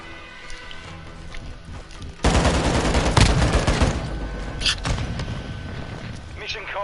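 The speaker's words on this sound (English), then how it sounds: "Enemy precision airstrike." A video game enemy precision airstrike hits as a burst of loud, dense explosions and rattling blasts, starting abruptly after a quieter stretch and continuing with rumbling impacts.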